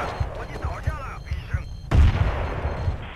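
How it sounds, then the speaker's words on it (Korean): A grenade explodes in a Battlefield 2 multiplayer match, a loud, sudden boom near the middle, with smaller gunfire-like thumps scattered around it and faint voices underneath. "자자자자 수류탄 나와요"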